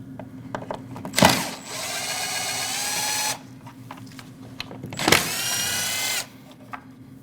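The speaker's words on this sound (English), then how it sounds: "there's two T27 Torx bolts. You want to remove those." A power driver backs out two T27 Torx bolts from the tail light on a 2014–2023 Jeep Cherokee, two close whirring bursts of about two seconds and one second, each starting with a sharp clack, with small clicks between them.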